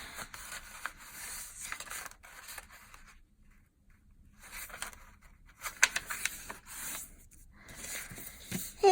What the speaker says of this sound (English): You could fold your paper the other way.